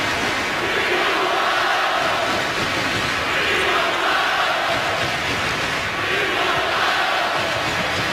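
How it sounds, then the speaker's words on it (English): Basketball arena crowd during a TCU versus Kansas game, a dense continuous roar of many voices swelling in rhythmic chant-like waves, loud and steady throughout with no single voice standing out. "the crowd was chanting for Mitch Lightfoot to come in"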